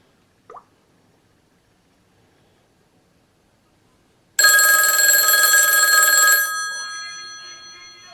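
A vintage 1955 Western Electric 500 rotary telephone bell rings once, a loud metallic two-second burst after a quiet stretch, then rings down and fades.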